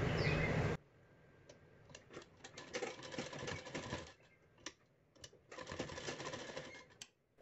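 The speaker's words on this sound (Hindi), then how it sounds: "अब देखिए इसको इस तरह से यहाँ पर अच्छे से मिलाते हुए सिलाई लगा देना है।" A sewing machine stitches blouse fabric in short bursts of quick mechanical clatter separated by pauses, heard close and moderately loud after a brief rustle at the start, with no voices.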